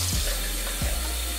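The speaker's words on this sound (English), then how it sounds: "Now what I'm doing, I'm just rinsing out my bottle" Water runs steadily from a tap while a bottle is rinsed out, a close, continuous gush with brief gurgling shifts as the flow fills and empties the bottle.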